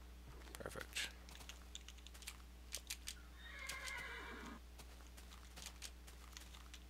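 A Minecraft horse gives a whinnying neigh, a descending burst about midway through, set among scattered soft keyboard clicks and faint game noise.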